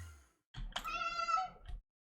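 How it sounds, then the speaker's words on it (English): A house cat gives one clear, close meow that rises and then trails off, with near silence before and after. "Cat."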